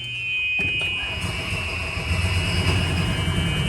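A 2008 Club Car Precedent golf cart, just fitted with new belts, drives off with a steady low engine and drivetrain rumble. The hum builds slightly after a brief start, with no voices.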